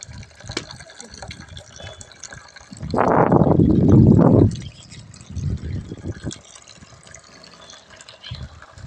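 Water gushes steadily into a pond for a couple of seconds amid ongoing trickling and splashing, with faint background noise before and after.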